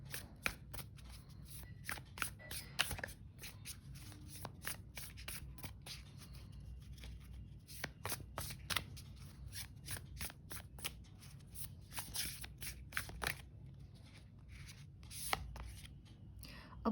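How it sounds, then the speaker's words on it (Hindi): Tarot cards being shuffled by hand, a long run of crisp rapid riffling flicks close by, quiet and continuous, with occasional soft talking. "एक एडवाइस के लिए कार्ड पुल कर लेते हैं।"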